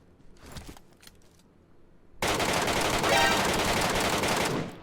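Sustained air gun fire in PUBG Metro Royale, a long unbroken burst of loud rapid shots that starts abruptly after quieter scattered game sounds and keeps going to the end.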